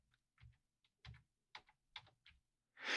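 Computer keyboard keys, Shift and number keys, clack in about eight distinct, close presses spaced unevenly over a quiet background, ending in a louder rushing burst.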